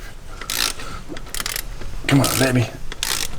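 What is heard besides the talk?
ratchet torquing down bolts on an engine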